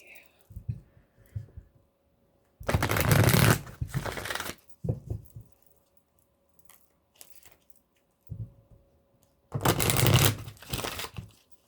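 Tarot cards being shuffled in two loud, dense bursts separated by quiet pauses and a few softer handling rustles, close to the listener with no talk.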